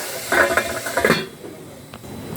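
Metal clinks and a soft clatter as a lid is set onto a cooking pan holding chayote stir-fry (thoran) in a home kitchen, a few close knocks followed by quieter background hiss.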